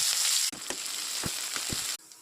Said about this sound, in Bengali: তেল গরম হয়ে গেছে, পেঁয়াজ দিয়ে দেব।